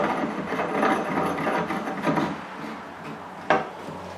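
Black iron pipe fittings being threaded together for shelving, giving a close, steady rasping and grinding of metal threads with a sharper knock near the end, no voices.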